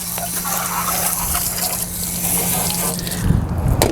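Hose water rinses beach sand off a car parked on grass, a steady broad rush of spray running throughout and growing slightly rougher and louder near the end.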